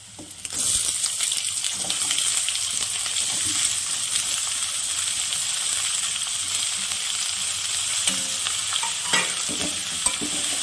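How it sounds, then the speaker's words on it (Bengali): Chopped onions fry in a pan of oil with garlic, a steady close sizzle with occasional stirring scrapes running throughout, no voices. "পেঁয়াজটাকে অল্প হালকা ভেজে নেব"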